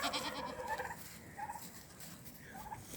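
Goats on a homestead bleat outdoors in several short, wavering calls spread through the moment, moderately close against a busy open-air background.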